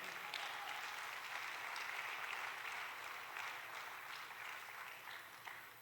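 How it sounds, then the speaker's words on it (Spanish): A church congregation applauds steadily for the full stretch, a dense, even wash of many hands clapping that holds at a fairly constant moderate level, with no talk over it. "¿Le puede dar un aplauso al Señor"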